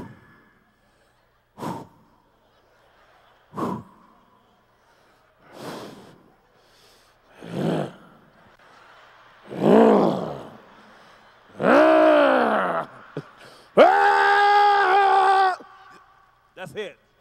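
A comedian on stage vocally imitates heavy breathing, a series of separate gasps and grunting breaths that start short and spaced apart and then grow longer, louder and more strained, ending in a drawn-out groaning exhale.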